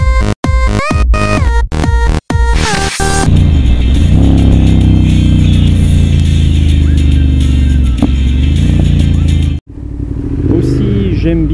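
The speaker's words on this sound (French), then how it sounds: "J'aime bien le caractère du moteur." A car engine revs at low revs, first in a few short choppy blips, then a sustained loud, close rumble that drops away briefly and picks up again.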